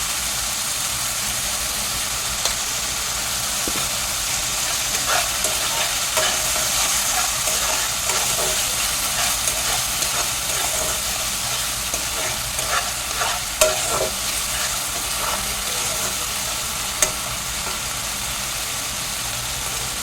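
Spices with turmeric and tomato frying in oil, a dense continuous sizzle with occasional soft scrapes and clicks of a stirring spoon, close and even throughout, without any talking.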